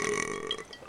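A long, throaty belch from a character in the video game Cyberpunk 2077, a single drawn-out burp heard close and loud on its own.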